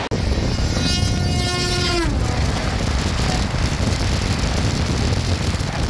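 The 12822 Puri–Shalimar Dhauli Express sounds a long, loud horn blast and then roars past with a steady, dense rumble of wheels and wagons.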